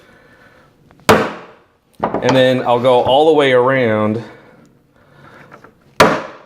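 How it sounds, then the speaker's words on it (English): A hammer whacks the wooden lid of a handmade hardtack box to dent it, giving two sharp, loud knocks several seconds apart, with a person talking between them. "I just eyeball that on top of the lid and give it a whack with the hammer"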